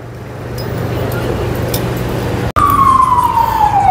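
An ambulance siren sweeps loudly past in busy street traffic, its wail starting abruptly partway through and sliding slowly downward in pitch as it passes, over a steady drone of engines.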